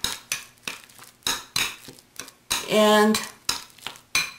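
Meat filling mixed with Chinese cooking wine and ginger powder in a bowl for stuffed peppers, with rhythmic close scraping and stirring strokes of utensil against bowl, one longer wet smear near the end.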